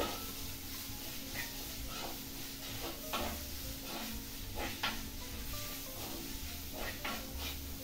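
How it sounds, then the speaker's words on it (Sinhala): Fish and chilli fry in hot oil with a constant sizzle, while a spoon stirs through the pan with soft scrapes and knocks, close and steady. "මේ ටික හොඳට තෙල් එකේ කලවම් කරගන්න ඕනේ."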